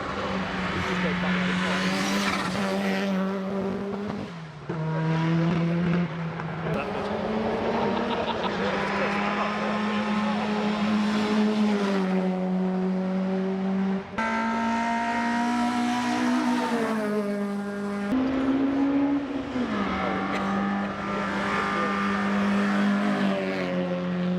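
Retro cars on a demo run racing up a hill at an enthusiasts' gathering, engines droning and revving in sustained, shifting tones as they pass, with someone talking over them for much of the time.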